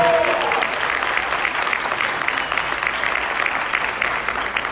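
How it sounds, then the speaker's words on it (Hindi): An audience at a public gathering bursts into loud, sustained applause, with many hands clapping densely and continuously from start to finish. "इसलिए आप एक बार जोरदार तालियां बजा के"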